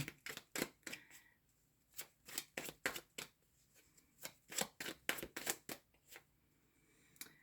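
Tarot cards riffled and shuffled by hand, a quick run of crisp flicking bursts in two clusters with short pauses between, close and quiet with no talking.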